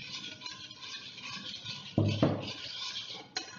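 Chicken tikka marinade with soy sauce and oil being stirred in a bowl, light scraping and clinking of a spoon against the dish, with a couple of sharper knocks, close and fairly quiet.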